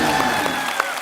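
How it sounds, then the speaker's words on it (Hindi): Studio audience at a Hindi TV comedy show applauding, a dense, steady wash of clapping that holds throughout the brief moment without dropping off. "बस अब जोरदार तालियां हो जाए मेरे।"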